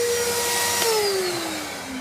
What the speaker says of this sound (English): The inverter is plugged in and my vacuum is going.